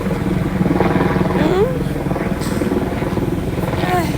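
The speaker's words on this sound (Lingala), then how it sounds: "hélicoptère ezo kende wapi" Helicopter flying overhead, a steady rotor drone running throughout with a faint fluttering beat, heard under a voice talking.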